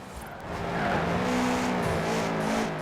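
A 2013 Subaru BRZ race build oversteering in Forza Horizon 4, engine droning steadily as tires squeal through a slide, close and sustained with no talk.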